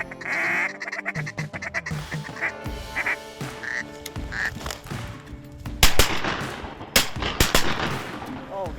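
Sharp gunshot blasts ring out on a river during a duck hunt in central Idaho, with a couple of loud reports after ducks quack and honk through the scene and a voice briefly heard.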